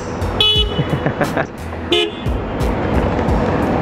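Several short car horn toots sound over road traffic, with a couple of longer honks mixed in, close and loud.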